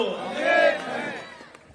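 A political rally crowd shouts and cheers in a loud collective roar that swells, peaks, then tapers off, with some voices rising above the mass.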